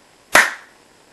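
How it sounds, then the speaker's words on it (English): One sharp hand clap lands close to the microphone, a single crisp crack that fades quickly into quiet. "I'll give a single clap."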